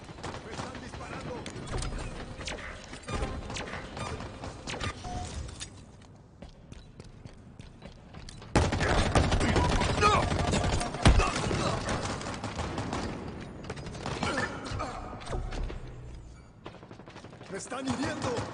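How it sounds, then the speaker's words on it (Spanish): Halo Infinite multiplayer combat, with rapid gunfire and shot bursts rattling through a dense, noisy game mix that swells louder midway, as speech drifts in and out. "¡Me están disparando!"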